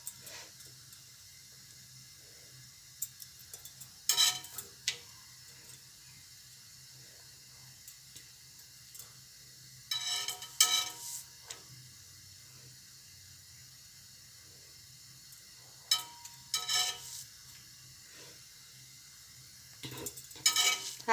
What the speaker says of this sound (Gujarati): તો મેં આ એક તવી મૂકી છે, એમાં આપણે એક રોટલી મૂકી